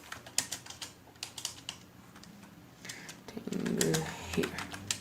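Quick bursts of keystrokes on a computer keyboard come in irregular runs of clicks, fairly close and moderately quiet, with a brief rustling handling sound near the end and no speech.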